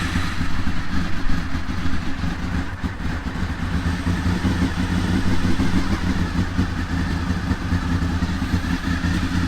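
A Honda VFR 800 motorcycle engine idling just after an oil change, a steady mid-pitched rumble with light mechanical clatter, held close and even throughout with no talking.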